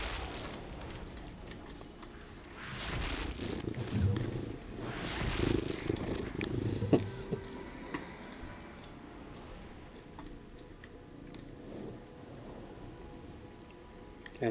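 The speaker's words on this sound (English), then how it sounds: "You can just listen to the purring cat whilst he's here" A pet cat purrs close to a microphone at a desk, a soft continuous low rumble with irregular thumps and rustles as the cat moves about, quieter in the latter half.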